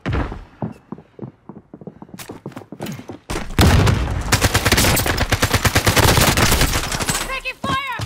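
Video game gunfire, dense rapid machine-gun bursts and heavy shots that start sparse, then erupt into a loud sustained barrage with thuds, while a player calls out over it.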